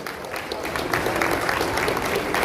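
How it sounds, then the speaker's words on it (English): An audience applauds an actress at a convention launch in Benin City, Edo State, with steady, moderately loud clapping that fills the room for a couple of seconds, and a faint murmur of voices underneath. "Please give her a round of applause."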